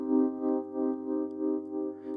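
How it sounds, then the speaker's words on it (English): A modulated synth pad swells and dips in a regular pulsing wobble within a bouncy 2000s-style produced beat, sustained tones rising and falling about twice per second, heard alone without talk. "I did add this kind of like synth that I modulated a little bit"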